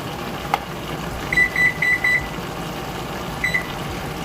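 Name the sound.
kitchen timer beeping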